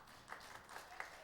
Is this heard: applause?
yes